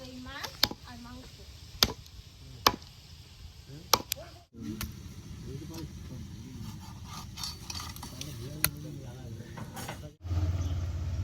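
Meat is hacked into pieces with heavy cleaver chops that land at irregular intervals, sharp and close, over a busy outdoor background with people talking.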